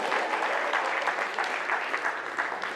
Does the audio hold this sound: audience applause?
yes